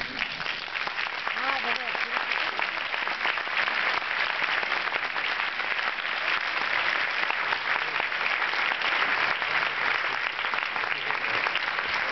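An audience at a film premiere night applauds at a constant level, dense and sustained from start to finish, with a voice faintly underneath.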